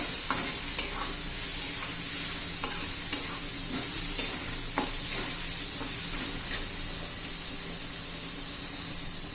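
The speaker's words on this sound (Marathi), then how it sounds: "वाटण केलेलं घालून घेऊया, खोबऱ्याचं, कोथिंबीरीचं. ते चांगलं परतून घेऊया" A coconut and coriander paste with garlic sautés in oil, giving a steady close sizzle with light periodic spatula clicks and scrapes, no voices.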